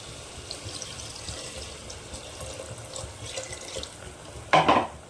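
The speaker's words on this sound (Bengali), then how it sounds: "এবার এর মধ্যে আমি দিয়ে দেবো জল" Water pours into a pot of egg and potato curry as a steady, close rush with a soft trickle, ending in a brief louder splash.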